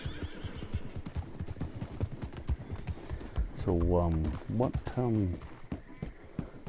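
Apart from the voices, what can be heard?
wild horse hooves in video game Red Dead Online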